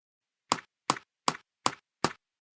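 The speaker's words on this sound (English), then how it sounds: "Tap." Five crisp, evenly spaced taps ring out in quick succession against complete silence, each short and sharp with a slight decay.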